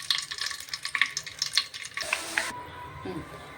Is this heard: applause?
no